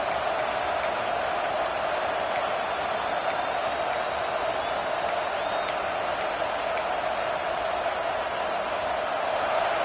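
A large stadium crowd at a Clemson college football game roars in a steady, distant wash of noise, with faint scattered whistles or shouts rising above it.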